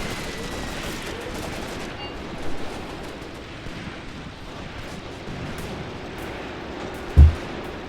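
Gunfire in the WWII tactics game Graviteam Tactics Mius-Front, distant crackling rifle and machine-gun fire rumbling under a windy battlefield bed, with a few louder bursts and one heavy thump near the end.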